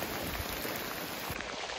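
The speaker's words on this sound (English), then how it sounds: "It's raining." Steady rain falls at a lakeside campsite in the wilderness, a dense continuous patter and hiss of drops across the whole stretch, fairly faint and with no talking.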